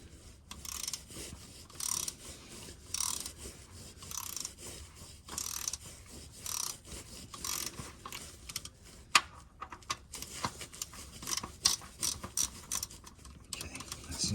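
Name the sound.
torque wrench tightening bolts on Lotus Evora during oil change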